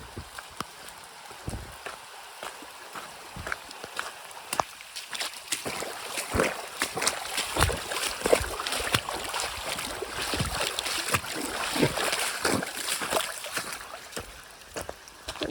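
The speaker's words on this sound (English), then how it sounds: "the only way to get across is to ford it, which is basically walk across" A hiker fords a stream on foot in the rain, boots sloshing and splashing through the water in irregular steps over a constant rushing backdrop of flowing water and rainfall.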